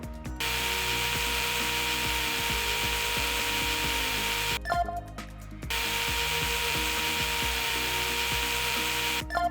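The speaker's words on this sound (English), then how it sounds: "Now I can use the bone saw to resect the tibial plateau" A virtual bone saw resecting the tibial plateau in a VR surgical simulator gives a steady, loud high-pitched whine with buzzing overtones, running continuously with one brief pause in the middle and no talking.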